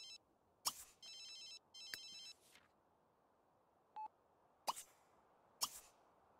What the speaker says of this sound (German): bei ihm schellt schon wieder das Telefon